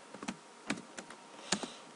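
Typing on a computer keyboard: a handful of quiet, separate key taps in an uneven rhythm, heard close and alone against near silence.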